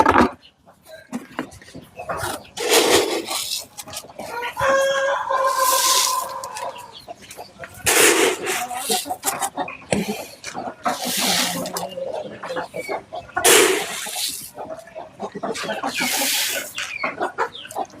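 Chickens cluck busily as they are offered feed, a close, lively mix of clucks and squawks that keeps going, with a person talking at times.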